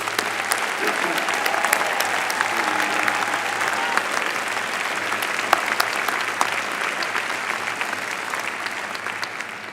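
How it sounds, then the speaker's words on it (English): Steady, dense applause from a large crowd at a graduation ceremony fills the whole stretch, loud and continuous with no pauses. "How about another round of applause for these graduates?"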